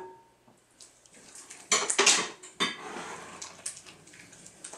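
Chipotle lime chicken marinade stirred in a bowl, with a few loud scraping, clinking bursts of the utensil against the bowl in the middle and quieter stirring before and after.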